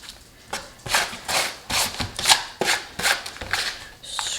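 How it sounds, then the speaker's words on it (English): Potting soil is scraped up by hand in a series of about eight dry, gritty strokes, close and fairly loud, each one a short rough rasp separated by brief pauses. "Scrape up the last little bit."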